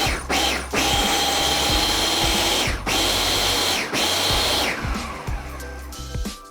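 Countertop blender whirring loudly as it blends oats or nuts with water into milk, a high motor whine in several bursts separated by short stops and pulses, fading at the end.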